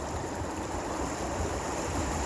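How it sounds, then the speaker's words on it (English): A small creek flows steadily on an autumn day, its close, continuous babble and rush of water filling the scene with no voices. "Beautiful little creek though, huh?"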